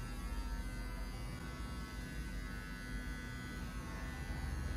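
An electric hair clipper fitted with a 1.5 guard trims a beard, giving a steady close buzzing hum that runs without a break, fairly quiet, with no voices.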